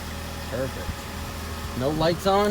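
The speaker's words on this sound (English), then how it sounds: "Idle's good on the cold start." A 2001 Saturn SC2 engine idles just after a cold start, a steady low hum running close under a voice.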